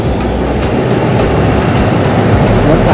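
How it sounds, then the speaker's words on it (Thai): A train arriving at a station in Thailand gives a loud, continuous rumble and roar, with a faint high whine and repeated light clicking sounds on top and no voices. "รถไฟก็กำลังมาพอดีเลยนะครับ"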